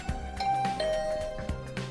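A chiming doorbell rings at a room door in the video game Hundred Line Last Defense Academy, tonal notes sustaining over soft game background sounds, with no one talking.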